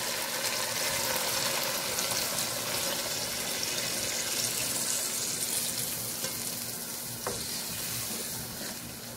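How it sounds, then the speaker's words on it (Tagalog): Two cups of water are poured into a cooking pot of sizzling shrimp majboos, the rush and splash blending into a continuous bubbling hiss that fades slightly toward the end. "lalagyan na po natin siya ng tubig"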